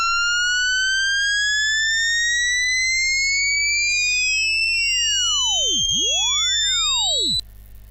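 A digital sound file transposed back down to its original pitch plays as clean sweeping tones gliding up and down, crossing and dipping, steady and moderate in level before cutting off abruptly near the end.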